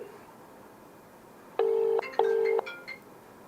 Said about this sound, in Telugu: కాల్ రింగ్ అవుతోంది